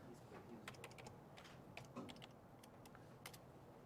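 Soft, irregular typing on a computer keyboard, with quick key taps in short bursts heard faintly at a low level.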